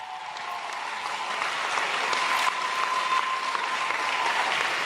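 A church congregation in Gabon applauds steadily, a dense wash of clapping holding an even, moderately loud level throughout with no talk over it.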